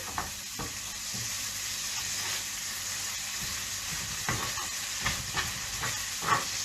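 Steady sizzling and hissing of sea bass frying in a pan, with occasional stirring clatters and pops.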